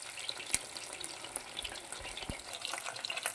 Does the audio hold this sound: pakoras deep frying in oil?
yes